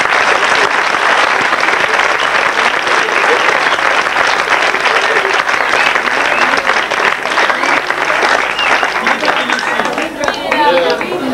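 Sustained, loud applause from an audience fills the whole stretch, dense and unbroken clapping with a faint wash of crowd noise beneath it.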